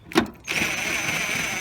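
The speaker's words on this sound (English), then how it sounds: "you can take your 13mm socket on either a ratchet or an impact here, and you're just going to go ahead and loosen" Impact wrench on a 13mm socket loosening decklid bolts on a 2006-2010 Dodge Charger: a brief tap, then a steady close whirring buzz running without a break.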